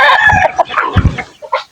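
A chicken clucks loudly and close by, with a rooster's crow mixed into the short burst of bird calls.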